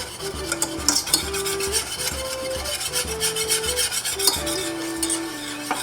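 A whisk beating powdered sugar into a warm mixture in a bowl, close and steady, with rhythmic scraping and rubbing strokes and tapping against the bowl in a fast repeating pattern, no talking.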